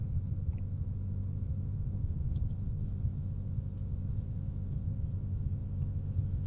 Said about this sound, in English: just take a little short drive around the neighborhood and see what's going on